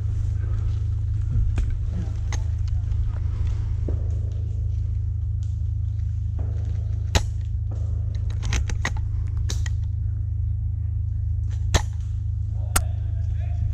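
Video game gunfire: scattered sharp cracks, some single and some in quick clusters, ring out over a constant low droning hum.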